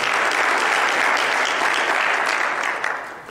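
A Baptist church congregation in Jackson, Tennessee applauds the choir, a loud, full, sustained burst of clapping that holds evenly before starting to taper off at the end.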